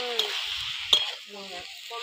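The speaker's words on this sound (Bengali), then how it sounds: "এইভাবে শাক নাড়াচাড়া দিয়ে শাকটাকে ভেজে দিতে হবে" Bathua greens are stirred and fried in a pan, with soft spatula scrapes and a gentle sizzle in short bursts, close by, under a faint voice.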